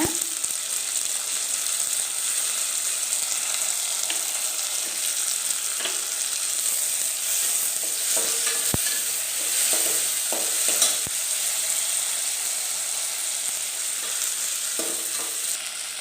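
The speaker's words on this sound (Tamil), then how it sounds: "இந்த வெங்காயமும் தக்காளியும் சீக்கிரம் வதங்குறதுக்காக இது கூட கொஞ்சம் உப்பு சேர்த்துக்கிறேன்" Onions and tomatoes fry with a little salt in a pan for a Chettinad fish curry, giving a loud, steady sizzle throughout with occasional clicks and scrapes of stirring.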